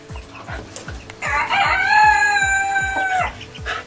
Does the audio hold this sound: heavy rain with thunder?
no